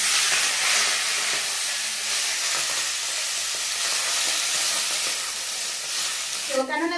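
Malabar spinach dropped into hot oil with whole cumin and radhuni spice, giving a loud, steady close sizzle throughout that flares into a brief sharp burst near the end.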